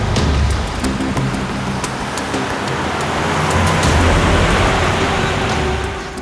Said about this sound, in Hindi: सर गाड़ी की आवाज सुनी आपने?